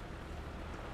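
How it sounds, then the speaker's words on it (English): Steady rain falls in the farming game Cattle and Crops, a dense, even hiss of drops with no clear pattern, faint and uninterrupted throughout. "But I don't like this rain"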